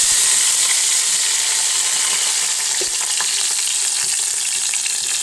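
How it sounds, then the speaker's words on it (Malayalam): Curry leaves sizzle steadily in hot coconut oil, tempering for a crab roast; a continuous close crackling fry with small pops throughout and no voices. "വെളിച്ചെണ്ണ ചൂടാക്കിയിട്ടുണ്ട്. അതിലേക്ക് കുറച്ച് വേപ്പിലയും കൂടി ഇട്ട് നമ്മൾ താളിച്ച് വെക്കും"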